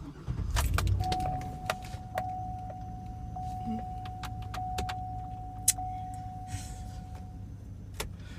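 A 2013 GMC Yukon Denali starts up with a short low rumble, then settles into a steady idle. A sustained chime tone and scattered clicks sit over it, with no talking.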